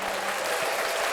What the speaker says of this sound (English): Let's give ourselves a round of applause.